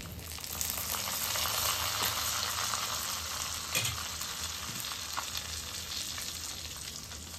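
Bay leaves dropped into hot oil left from frying fish, giving a loud, steady sizzle and crackle throughout with faint stirring clinks.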